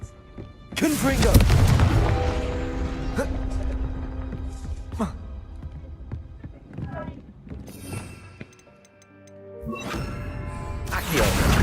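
A Confringo blasting spell in Hogwarts Legacy sets off a loud booming impact with a crashing, rumbling tail, then smaller bangs and rumbles and another heavy surge at the end, with a voice talking over the action.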